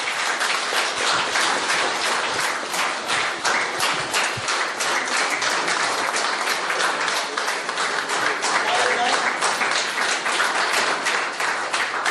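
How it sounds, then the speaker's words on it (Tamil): Sustained, dense applause from a large audience at a Rotary Club installation ceremony, steady and loud throughout as a new president's collar is handed over, with no speech over it. "நல்ல பலத்த கரகோஷம் அவர் கொடுக்கணும்."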